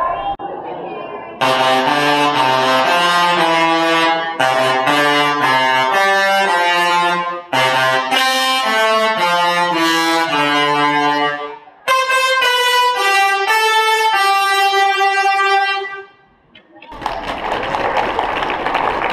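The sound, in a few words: singing electric arcs from lightning machine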